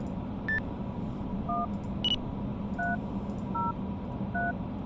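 Electronic radio keypad beeps from the Train Sim Classic video game, a series of short two-tone presses dialing a channel, spaced irregularly, with a couple of sharper clicks, over a soft background hiss.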